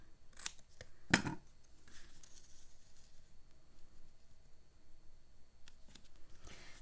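A few quiet, crisp snips of scissors cutting paper, one sharper than the rest, close by in an otherwise hushed room.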